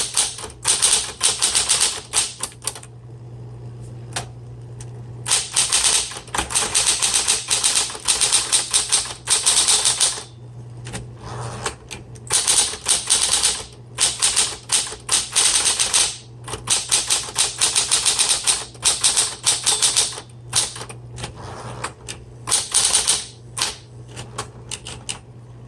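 A 1970s Smith Corona Electra 120 electric typewriter types in rapid, irregular bursts of sharp key strikes, close and loud. A steady motor hum runs underneath, with short pauses and carriage sounds between runs.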